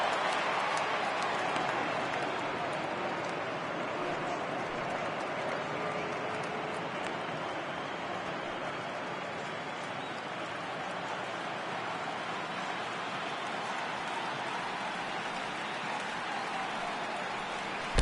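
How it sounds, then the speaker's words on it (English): A steady, distant crowd murmur fills a ballpark during an MLB 18 Cardinals versus Cubs playoff game, a continuous low wash of voices with no sharp peaks throughout. "I can hear the crowd murmuring now"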